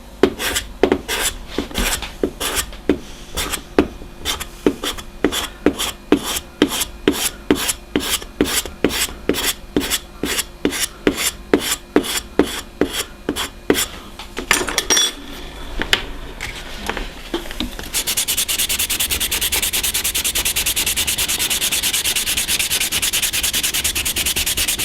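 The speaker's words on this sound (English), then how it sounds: "And now he's grabbing the scraper." A hand scraper works a wooden ship model part in a steady run of about thirty rhythmic, close scraping strokes, then gives way to a continuous, even rasping hiss.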